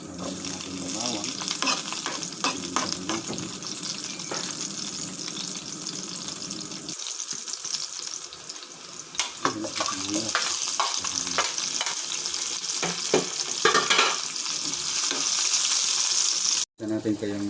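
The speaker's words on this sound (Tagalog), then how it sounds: "nalagyan natin yung bawang" Garlic sautés in a pan for mung bean soup, with continuous loud sizzling and the scrape and clatter of stirring throughout, and a brief gap near the end.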